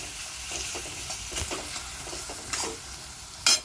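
Onion frying in a pan for chana dal zhunka: a low, faint sizzle broken by several short spatula scrapes, ending in one louder scrape near the end. No voices.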